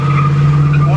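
Tires on a 1971 Mustang Fastback squeal loudly while the car power brakes, a sustained, close, high-pitched screech over a low engine rumble.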